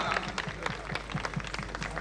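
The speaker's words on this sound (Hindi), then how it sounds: "गुरु जी के लिए ताली मारो सब लोग" A small audience claps for a guru at a stage event, scattered, fairly faint applause with uneven individual claps under a low hum, a voice briefly speaking.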